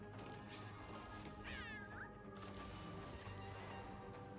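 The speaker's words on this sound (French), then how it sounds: "J'ai jamais remarqué Cypher faisait des bruits de chat quand il était bossé." Cat meows from the character Cypher in the video game Honkai: Star Rail, two short high mewing calls over a busy game soundtrack with impacts and music, the first clearer than the second.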